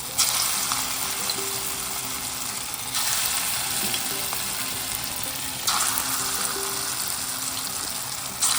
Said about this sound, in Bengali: বড়া ভাজাগুলো হয়ে গেছে